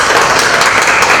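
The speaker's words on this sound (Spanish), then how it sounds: "Un aplauso para Gerardo" Audience in a classroom-style gathering clapping together, a loud, dense burst of applause filling the whole short moment.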